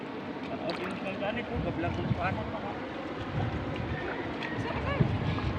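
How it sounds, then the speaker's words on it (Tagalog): Strong wind roars and buffets across the whole stretch, mixed with choppy water noise and voices talking beneath it. "Lakas ng hangin."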